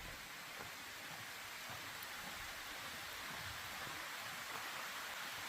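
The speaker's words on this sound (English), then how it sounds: "And it's raining, so it adds to it." Steady rain falls on a rainforest walking track at Cape Tribulation, Australia, a dense even patter and hiss with no pauses, fairly close and constant.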